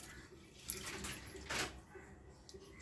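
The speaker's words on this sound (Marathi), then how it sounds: "आता हे दोनदा पाणी टाकून स्वच्छ धुवून घ्यायचं" Rice or chicken being rinsed by hand in water in a home kitchen, with soft splashing and swishing that swells twice, fairly close and quiet.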